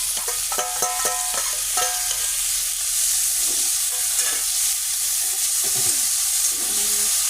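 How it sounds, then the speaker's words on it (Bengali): Ginger and onion frying in a small amount of oil, a steady close sizzle with repeated stirring scrapes and clinks of a utensil against the pan, with no talking. "একদম কম তেলেই করছি আস্তে আস্তে সুন্দর হবে এটা লাল হয়ে গেছে আদা আর পেঁয়াজটা একসঙ্গে দিয়ে দেবো"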